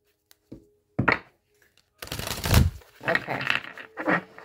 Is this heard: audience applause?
no